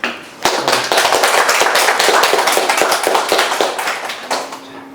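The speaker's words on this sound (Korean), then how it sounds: "박인규 대표님 박수로 한번" Audience at a lecture on the Ukraine war and peace on the Korean Peninsula applauds to welcome guest speaker Park In-gyu, a dense, steady burst of many hands clapping close by for several seconds before thinning out.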